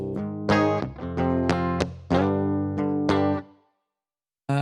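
A clean electric guitar plays a series of strummed chords, each ringing out clearly, then the sound stops abruptly before one last short chord.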